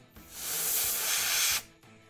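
Canned air sprayed at close range to blow dust off a varnished miniature, one steady loud hiss lasting about a second and a half that starts and stops abruptly.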